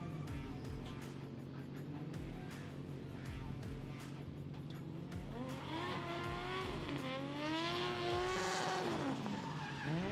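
Race cars at a drifting competition roar and scream past with squealing tires and rising, falling engine pitch, loud and continuous, the engine note sweeping sharply upward and back down in the second half as a car skids by.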